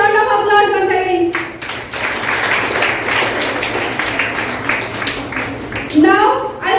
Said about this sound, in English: Give a huge round of applause once again.